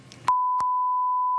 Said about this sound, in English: what everybody at home just heard was beep, beep, beep